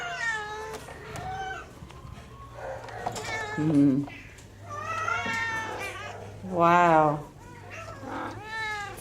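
Cats at an animal shelter meow repeatedly, with several loud, drawn-out wails and shorter mews close by, overlapping with people talking.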